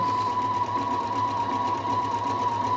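A Husqvarna 330 electronic sewing machine runs steadily at close range, its motor giving a continuous even whir with a sharp steady whine, loud and unbroken with no talking.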